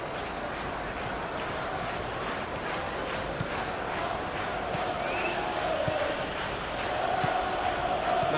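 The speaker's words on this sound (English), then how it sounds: "the crowd are reacting to that now" Stadium crowd in a Premier League football video game, West Ham United against Manchester United, a dense continuous roar that swells slightly toward the end, steady and broad with no clear breaks.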